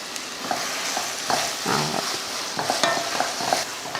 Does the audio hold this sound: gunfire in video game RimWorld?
no